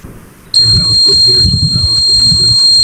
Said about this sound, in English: so whenever a motion is detected, the alarm is generated.